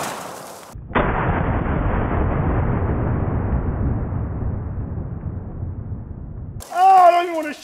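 A single loud blast from a triple-barrel 12-gauge shotgun loaded with a mini shell of birdshot, fired outdoors, its roar decaying over several seconds before a person exclaims afterward.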